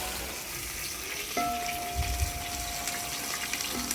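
Onions fry in ghee with whole spices for a mutton ball jeeraka kanji, a moderate sizzle and watery bubbling alongside a brief thin whine and a few low bumps of the pan.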